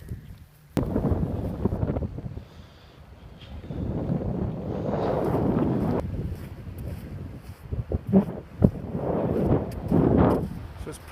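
Gusty wind buffeting a microphone on an Angus coastal path on a fine day, rumbling low blasts rising and falling in irregular bursts, close and loud, with no clear talking.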